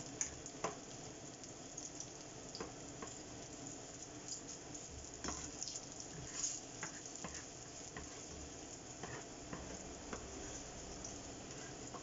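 Garlic, mushrooms and cayenne peppers fry gently in a pan, making a quiet, steady sizzle dotted with small ticks and pops, with nobody speaking.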